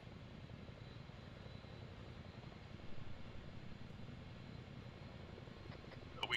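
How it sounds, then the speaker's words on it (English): A Chinook twin-rotor helicopter in the ARMA 3 military video game drones steadily and loudly throughout, a continuous low engine and rotor roar with a brief swell midway, and no voices. "Wait until the Chinook gets on the ground, then we'll collapse our position"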